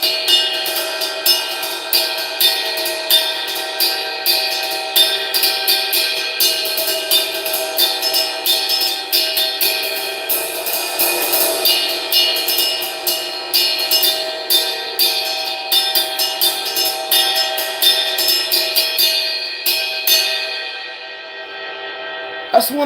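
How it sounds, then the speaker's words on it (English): Custom Zildjian ride cymbal bell struck in a steady rapid pattern during a drum solo, bright ringing pings with sustained shimmering overtones, loud and close, ending in a brief fade. "And then they use that bell when it comes to the solo parts like this."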